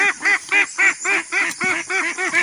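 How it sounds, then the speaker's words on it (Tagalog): Farm ducks being moved quack in a rapid, steady run of loud, close, nasal calls that repeat about four times a second. "naglilipat po kami ng itik"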